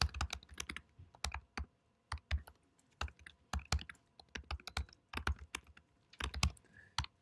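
Java code being typed on a computer keyboard: close, uneven bursts of crisp keystrokes with brief pauses, no talking.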